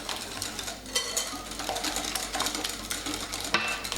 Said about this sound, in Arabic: مع مواصلة الخفق